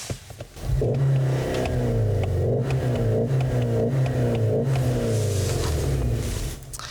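A 2021 Škoda Octavia RS iV engine revs hard and loud in sport mode, its artificially produced pitch rising and falling in repeated surges before easing off at the end.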